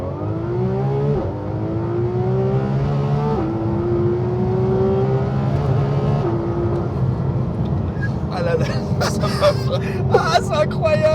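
A Porsche 911 GT3 RS flat-six engine revs up repeatedly in stepped climbs, its pitch rising through the gears under excited voices, ending in loud, sharp crackles and pops near the close.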